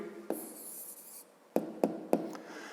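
A pen or pencil writes a math answer by hand on paper, close and fairly loud, with a long scratchy stroke followed by three short, sharp marks.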